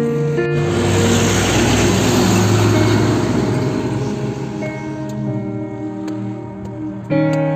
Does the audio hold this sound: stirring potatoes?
no